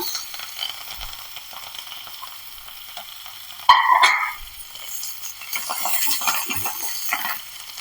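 Ginger, garlic, green chillies and curry leaves sautéing in a pan for pineapple curry, a quiet sizzle that jumps with a sharp clatter and burst midway, then settles into louder crackling.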